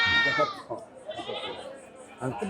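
A goat bleats loudly and close at a busy open-air livestock market, one drawn-out wavering cry followed by shorter bleats, while traders talk around it.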